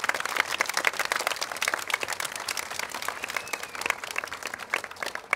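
An audience at a children's choir concert gives warm, sustained applause, dense steady clapping from a crowd filling the room without a break.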